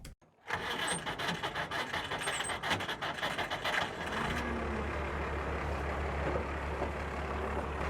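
A 1947 International KB-5 truck engine cranks and catches, then runs with a rough, rumbling idle after a burst of revving, heard nearby and alone without speech.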